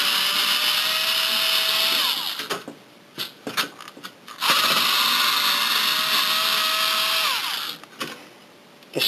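A screwdriver works the Torx screws of an Xbox 360 console with a loud, steady, close whirring buzz in two long runs, separated by a stretch of clicks and brief rattling bursts.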